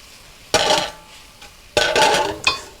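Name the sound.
flipping coconut shrimp over in a frying pan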